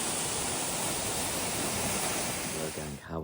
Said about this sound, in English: A magical waterfall.